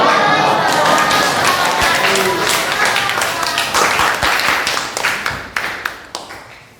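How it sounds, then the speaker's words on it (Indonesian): Classroom applause for a group presentation, a loud dense burst of many clapping hands that gradually thins into scattered claps, with some voices in the room. "Sekali lagi kita tepuk tangan untuk presentasi kelompok 1."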